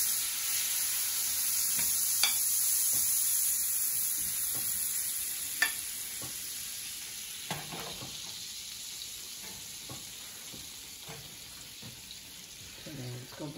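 Butter fries in an overheated frying pan with a bright steady sizzle that fades slightly, while spatula scrapes and taps punctuate it close by.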